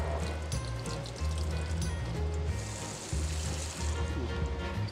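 Salted fish rinsed under a running tap: a steady, continuous rush of water close by, with no pauses and no talking.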